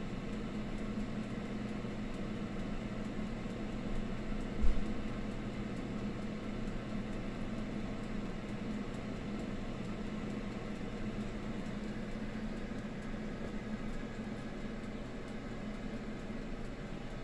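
A deep fryer hums and whirs steadily at low volume, a constant mechanical drone with one brief thump partway through.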